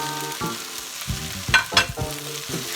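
Shrimp, eggs and vegetables stir-fried together in a pan for shrimp fried rice, giving a steady sizzle with scraping stirs and two louder clatters partway through, close and alone.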